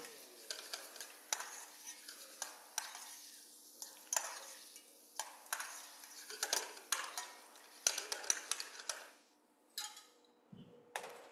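Onions coated in caramel are stirred in a pan, giving a quiet series of regular scraping strokes roughly every second with a faint sizzle between them, ending in a few softer scrapes.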